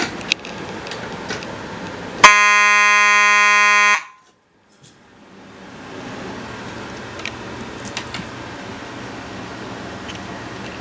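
A fire alarm, set off by pulling a T-bar pull station, sounds sharply for under two seconds, loud and steady, then stops abruptly; quiet background noise and rustling follow.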